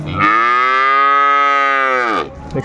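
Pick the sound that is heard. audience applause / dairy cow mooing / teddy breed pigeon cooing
dairy cow mooing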